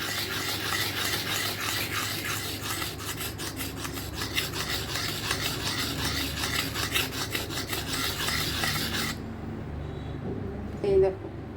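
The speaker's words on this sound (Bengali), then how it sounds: "এই যে শিলটা নিয়েছি মশলা বাটার, তো এর পিছনটা তো খসখসে, তো সেই জন্য এর উপর রেখে এইভাবে ঘষতে থাকবো" An oyster shell is scraped back and forth on the rough underside of a stone spice-grinding slab, giving a steady, loud rasping rub that stops abruptly near the end, with a voice speaking over it.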